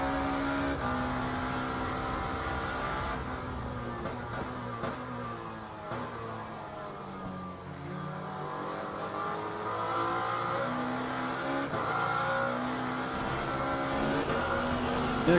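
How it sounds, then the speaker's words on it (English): Ferrari race car in a racing video game, engine screaming at high revs through continuous gear changes, rising and falling pitch sustained at steady loudness with no talk. "That Ferrari behind is fast."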